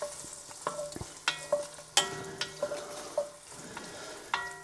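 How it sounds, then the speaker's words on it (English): Chopped onions sizzle gently in melted butter in a soup pot while a spoon stirs and knocks against the pot several times, close and moderately quiet, with no voices. "Give them a bit of a stir in."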